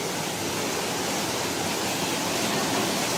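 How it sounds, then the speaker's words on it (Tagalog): Steady, dense rush of falling water roars continuously, a close waterfall at the top of Batubaong, with no other sounds. "Merong rumaragas ang tubig."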